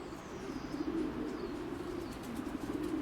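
Wanroy racing pigeons coo steadily in a loft, a continuous low murmuring layered from several birds, fairly faint, with occasional higher chirps above it.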